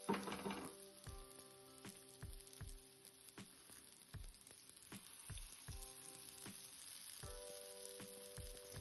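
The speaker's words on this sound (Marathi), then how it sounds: "ठेवली एक एक करून, जेणे की आपली टिक्की छान फ्राय होईल" Sweet potato tikkis shallow-frying in very little oil on a pan, a faint steady sizzle with gentle pops and soft taps as pieces are set down one by one.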